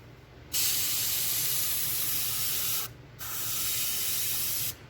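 An Iwata airbrush sprays paint onto 1/35 scale model tank tracks, making two long, steady close hissing bursts with a short pause between them and quiet room background.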